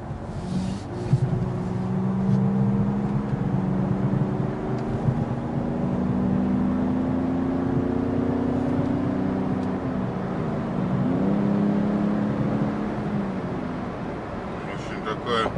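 A 2017 Ford F-150 Raptor pickup gets moving onto a highway, its engine a steady droning hum with slowly rising tones under road noise, and someone speaks over it throughout.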